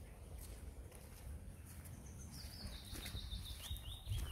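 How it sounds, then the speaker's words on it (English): Faint birds twitter on an outdoor walk at Falkland Estate, thin high chirps and a brief warbling phrase rising over a low rumble of wind and ambient noise. "And then you can hear the birds twittering, happy."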